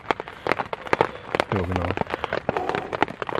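Rain patters on a bivvy bag in a cold, wet autumn forest, a dense spray of sharp, close taps and drips, and a voice briefly speaks over it.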